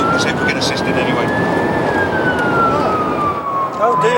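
A police car siren sounds on a motorway, one steady wailing tone that slowly rises and then falls as the car draws near, heard over loud, constant road and engine noise inside a moving vehicle.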